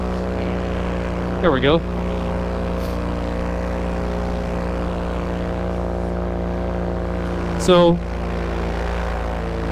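A paramotor engine drones steadily and loudly at takeoff and in flight, a constant propeller hum with two brief chirps above it. Someone speaks briefly over it.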